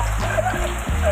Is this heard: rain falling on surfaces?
yes